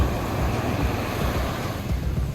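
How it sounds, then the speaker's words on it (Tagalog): Ocean waves wash onto a beach in the Philippines as a dense, steady roar of surf. The sound is close and loud, with rumbling wind noise throughout and no voices. "Wait for the waves!"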